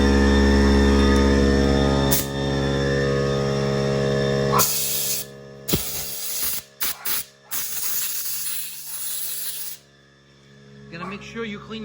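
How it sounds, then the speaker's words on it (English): Nitro Blast spray cleaner squirted through a straw onto threaded parts of a Rovan Baja Max-T RC truck, several short hissing bursts in a row after a steady background hum, close and fairly loud. "So I added the straw to my Nitro Blast. Just squirt it on the threads."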